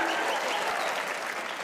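An audience in a comedy show studio bursts into dense, continuous applause, loud and close, with no gaps across the short stretch.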